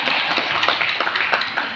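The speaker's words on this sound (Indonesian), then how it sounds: "Ayo tepuk tangan" An audience at a gathering applauds with a dense, continuous patter of many hands, loud and close throughout a short burst.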